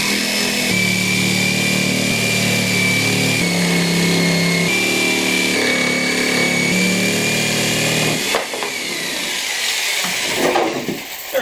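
A power sander smooths the edges of a homemade wooden deadlift jack in a garage, a loud, steady motor whine with shifting pitch as pressure changes, running alone before cutting off near the end.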